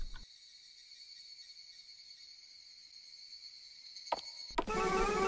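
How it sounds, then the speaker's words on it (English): Evening cicadas drone in one steady, high, even buzz that goes on for several seconds, then gives way to a brief burst of other louder sounds near the end. "The cicadas really do sound so sad this time of year."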